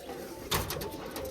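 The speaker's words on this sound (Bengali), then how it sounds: "খুব সুন্দর কিন্তু বিদেশি পায়রা" A foreign-breed pigeon gives a brief, soft cooing call close by, a short throaty burst over a quiet loft background.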